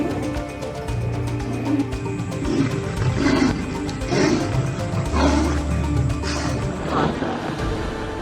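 A lion and a tiger roar and snarl at each other in a fierce fight, deep overlapping growls rising and falling loudly throughout, close and continuous with no talking.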